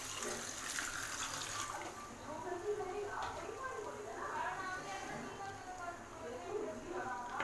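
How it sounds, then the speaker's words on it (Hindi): Water pouring steadily into a pot of rajma masala, a gentle splashing flow heard faintly and continuously, with a bit of background noise. "मैं ऐड करूँगी 3 से गिलास जितना पानी।"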